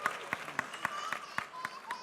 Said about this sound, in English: They clapping.